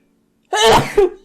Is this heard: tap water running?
no